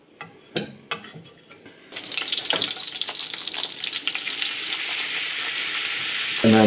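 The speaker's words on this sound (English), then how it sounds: "So melt about 50 grams of butter into a frying pan on sort of medium heat." Butter melting over medium heat in a frying pan for a flour-and-butter roux, a few faint clinks at first, then a steady, close sizzle and crackle that swells and holds to the end.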